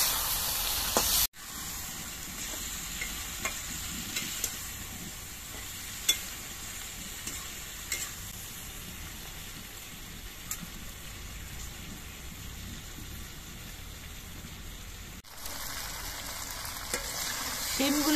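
Flat beans (sim), salted and releasing water, cook down in a pan over the flame with a steady close sizzle and hiss, a few stirring clatters and brief breaks along the way.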